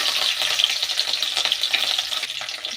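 Green chillies and curry leaves fry in a pan of hot oil, giving a steady, close sizzling crackle with small spitting pops throughout and no voices.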